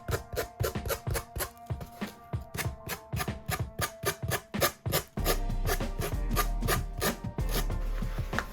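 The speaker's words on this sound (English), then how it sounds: "I just took my sanding block to just sand off any excess material." Sanding block rubbing off excess material on a Dollar Tree home decor craft piece, a series of close, rhythmic rasping back-and-forth strokes that quickens toward the end.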